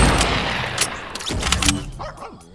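Hand pistol gunfire in the Fortnite video game, with a burst of rapid, loud shots that fades out near the end.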